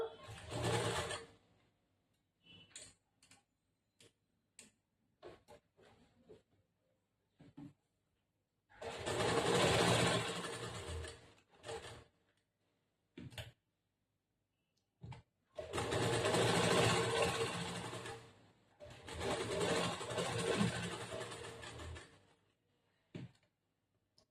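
A sewing machine stitching a princess-cut blouse runs in several bursts of rapid, whirring stitches, separated by quiet pauses filled with brief clicks and handling noises.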